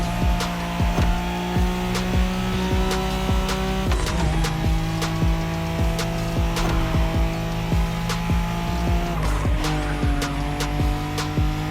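A Nissan Skyline tearing through a Wangan race in The Crew Motorfest, its engine droning loud and steady while the pitch repeatedly climbs and drops through gear shifts, with tyre squeal threaded through the run.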